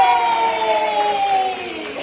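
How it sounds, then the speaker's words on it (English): Workshop participants at a live improv session clap and cheer together, a loud crowd burst with a sustained vocal cheer riding over steady clapping that eases off toward the end. "clap your hands and say"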